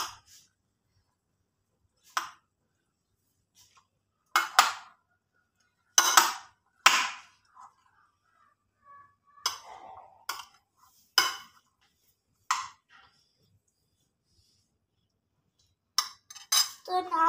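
Metal spoon clinks against a bowl while chickpea salad is tossed with lemon juice, sparse separate bursts with long quiet gaps between them.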